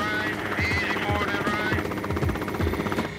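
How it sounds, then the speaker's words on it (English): Coast Guard helicopter hovering in strong winds, its rotor producing a loud, steady thudding beat with continuous engine whine, heard up close alongside speech. "With strong winds pushing the helicopter, the pilots must work very hard to keep a steady hover."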